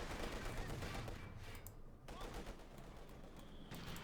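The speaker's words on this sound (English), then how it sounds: "mortar firing down" Mortar fire and small-arms gunfire crackle in a Company of Heroes 2 match between Wehrmacht and Soviet sides, a dense, fairly faint bursting barrage with a brief lull midway.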